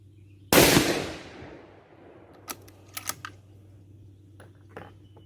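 A single loud rifle shot rings out alone during a scope tracking test with an Athlon Midas Tac 6-24x50 scope, followed by a decaying echo and a few faint clicks and knocks afterward.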